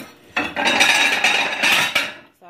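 A ceramic plate clatters and scrapes against a cooking pot as it is set on top as a makeshift lid over okra and tomatoes, a loud rattling burst lasting about two seconds, then quiet.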